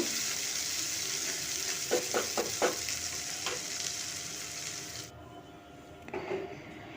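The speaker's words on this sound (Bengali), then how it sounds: "হিং দিয়ে তারপর টমেটোটাকে নরম হয়ে যাওয়া পর্যন্ত আমি একটু কষিয়ে নেব" Tomato cooking down with asafoetida in a pan for a Bengali aloo dum, a steady close sizzle with a few sharper stirring scrapes, the frying noise cutting off abruptly near the end.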